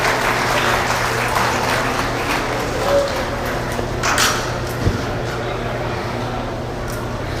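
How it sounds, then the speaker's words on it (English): Spectators applaud junior exhibitors at a 2022 meat goat show. Continuous, dense, fairly soft clapping fills a large, echoing space, with a brief thump midway. "Let's give these juniors a round of applause."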